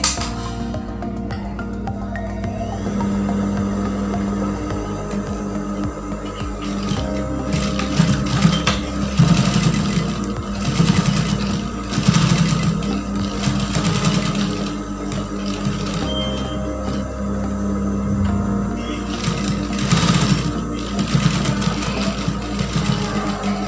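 A sewing machine stitches patchwork fabric for a tissue holder, running with a steady close whirring and rapid needle clatter through the whole stretch. Brief pauses and slight speed changes break it up, and no one talks.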